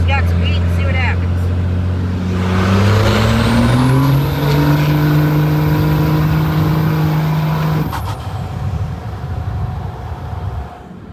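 A Cummins diesel truck fitted with big injectors accelerates hard, its engine note climbing through the gears with a rising turbo whistle over the roar, then dropping away as the throttle lifts, heard from inside the cab.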